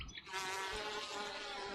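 Worker honey bees make a steady, close insect buzz with a droning hum that holds for under two seconds, with no voices over it.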